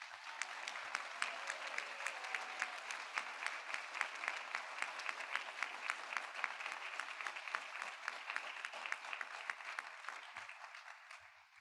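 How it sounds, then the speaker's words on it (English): Sustained applause from a large crowd at a Penn State spring commencement ceremony for the class of 2021, steady and even throughout, somewhat distant and filling the space without voices standing out. "How about one last round of applause?"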